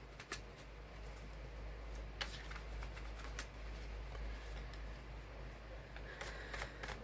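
Quiet, soft riffling and scattered clicks of a small deck of fortune-telling cards being shuffled, a few sharper snaps standing out over a low steady hum.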